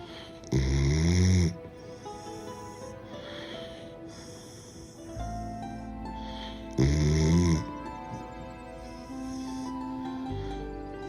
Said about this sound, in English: she can finally feel comfortable enough and safe enough to sleep and snore